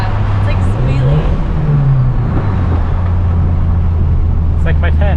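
A turbocharged 550whp Mitsubishi Evo runs loud and close, its steady engine drone joined by a rising and falling whine from the turbo, with people talking over it.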